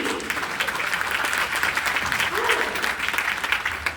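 An audience at a team winter conference breaks into sustained clapping that fills the whole stretch at an even, dense level, with a voice faintly audible underneath.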